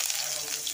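Sliced onion drops into hot oil already spiced with five-spice seeds and sizzles with a short, bright crackling hiss close by.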